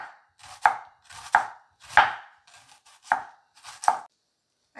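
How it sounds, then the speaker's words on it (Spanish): A knife slices an onion into thin strips on a cutting board, about six crisp, evenly spaced chops with short pauses between them, close and clear with no voices. "Aquí vamos a empezar a rebanar nuestra cebolla así fileteada,"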